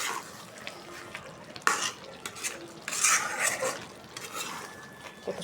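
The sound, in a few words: stirring fried onions and rice in a cooking pot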